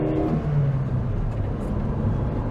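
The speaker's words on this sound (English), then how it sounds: "that overhead cam CA engine does pull very nicely" A Nissan Prairie (Stanza Wagon) family car with an overhead-cam CA engine accelerates, giving a steady, close engine drone that climbs gently in pitch without a break.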